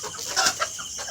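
Local Bangladeshi deshi hens and roosters cluck in a short, close burst of a few calls, with the loudest note in the middle followed by a softer one.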